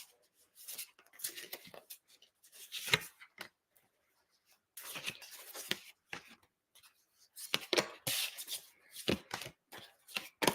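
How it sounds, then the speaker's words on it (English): Tarot cards are shuffled by hand in close, quiet bursts of soft riffling and papery flicks separated by short pauses. "let's shuffle this strength card back in"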